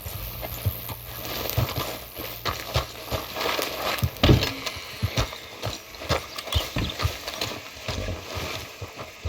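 Horse hooves clip-clop at a walk in Red Dead Redemption 2, an uneven run of close thuds with faint tack rattle, the pace slowing as if being reined in.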